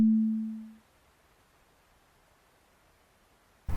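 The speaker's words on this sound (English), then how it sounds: "Love a pure sine wave, especially with the tail like that." Pure sine tone from a Korg ESX, given a short release that makes it chimey, sounding alone as one steady loud note that fades over under a second into near silence, with a brief noisy burst at the very end.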